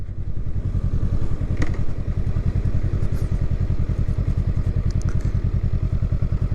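A 2023 Honda Rebel 500 SE motorcycle idles with a rapid, throaty exhaust putter, loud and close, pulsing evenly throughout with a few small clicks.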